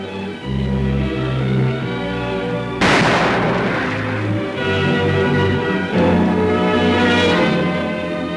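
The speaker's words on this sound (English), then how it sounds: "Wrecked landing craft were blown up with depth charges to clear the channel." Depth charges blow up wrecked landing craft to clear a wartime channel in archival film, a heavy blast erupting near three seconds and rolling into a loud, sustained rumble under an orchestral music score.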